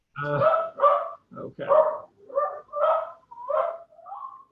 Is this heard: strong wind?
no